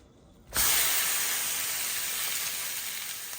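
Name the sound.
beef roast searing in a hot pan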